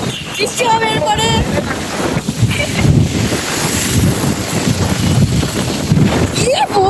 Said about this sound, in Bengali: বাইক রাইডে বেরিয়ে আমাদের ঝড় উঠে গেছে গাইস